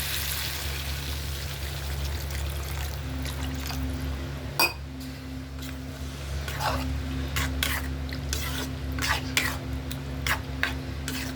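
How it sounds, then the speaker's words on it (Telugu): Water is poured into a pan of egg curry with dried anchovies, a quiet liquid trickle over a steady kitchen hum, broken by occasional clinks and stirring taps. "కొంచెం వాటర్ వేసుకుందామండి"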